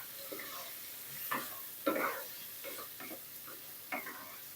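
Pumpkin stir-fried in a pan with egg and carrot, giving quiet sizzling and scattered scraping stir strokes of a utensil against the pan, a handful of soft clattering bursts spaced across the moment.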